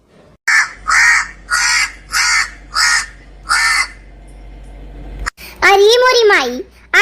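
A crow in an animated comedy cartoon caws six times in an even, loud rhythm, followed by a voice speaking in a high, sing-song tone.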